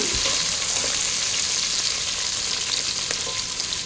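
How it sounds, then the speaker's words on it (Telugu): Thinly sliced long onions fry in a pan for paneer biryani, making a steady, close hiss of sizzling oil with small crackles throughout and no voices. "ఈ రెండు ఉల్లిపాయలు సన్నగా కట్ చేసుకోవాలి సన్నగా పొడవుగా కట్ చేసుకుని వీటిని దోరగా వేయించుకోవాలి"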